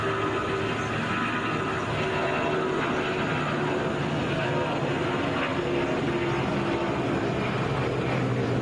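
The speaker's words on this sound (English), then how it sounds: "Boeing 757 there." Delta Boeing 757 airliner at Atlanta, a steady moderate jet rumble with a faint hum, continuous and fairly distant, with some talk over it.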